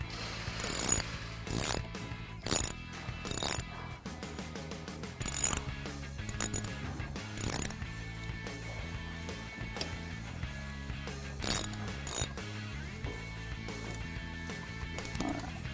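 A ratchet tightening motorcycle brake caliper bolts during a Galfer brake pad install on a sportbike, with rapid clicking pawl bursts repeating in short strokes, close and fairly loud, with no talking.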